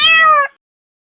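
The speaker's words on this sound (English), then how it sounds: "Cat." A single clear cat meow, close and loud, a short tonal cry lasting about half a second and then cut to silence.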